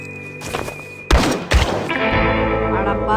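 Sharp impact thud of a gunshot headshot in a western cowboy video game, one loud hit followed by a second burst, then steady game music and ambience.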